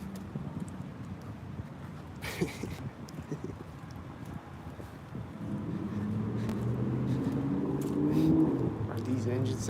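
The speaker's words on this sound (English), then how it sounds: "another car drives by me" A car drives past outdoors. A steady rush of wind and road noise swells in the second half as the car nears, with a brief sharp knock early on.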